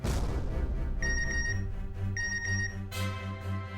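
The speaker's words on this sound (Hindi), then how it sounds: "आ गया मिंटी का मैसेज।" A phone message notification tone chimes twice, each a short trill of bright repeated beeps, over background music.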